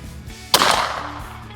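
A single loud .410 shotgun shot fired at a turkey target from 30 yards, a sharp close blast that decays quickly into a short outdoor tail.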